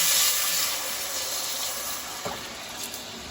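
Hot water pours into a pot of tarhana soup, a steady hissing splash close by, with a brief clink near the end and no talk.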